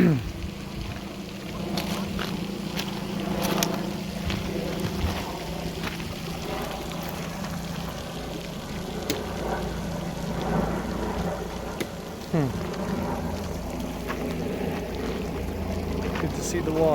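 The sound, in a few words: water rushing like a flash flood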